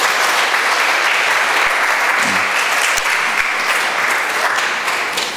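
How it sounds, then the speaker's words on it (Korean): A church congregation bursts into loud, dense applause at a Sunday worship service, a continuous roar of many hands clapping together for the whole stretch. "우리 크게 박수로 한번 축복합시다"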